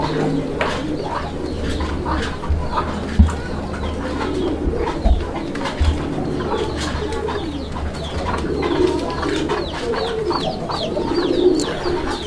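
A pair of large domestic pigeons kept for sale coo repeatedly in low, throaty rolling bursts, close and steady, with a few soft knocks in between.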